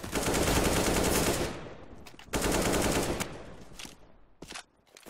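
Automatic gunfire in the shooter game CS:GO, two long sustained bursts of rapid shots separated by a short pause, followed by a few scattered single shots fading out at the end.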